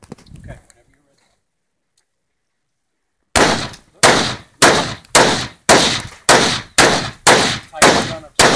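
Gunshots from a handgun at a tactical shooting class, with a brief voice at the start, a few seconds of silence, then nine loud, close, evenly spaced shots, each with a sharp crack and a short ringing decay.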